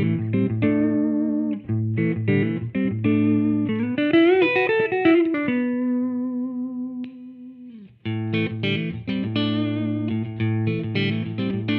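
An Epiphone Les Paul Custom Pro electric guitar with humbuckers through high-gain distortion plays chugging chords and a bent, sustained note that fades out, then a return to tight riffing, loud and alone.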